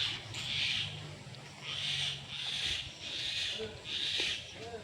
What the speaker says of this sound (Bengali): দেখে দেখো পাখি ডাকছে, একটা বিড়াল এসছে এদিকে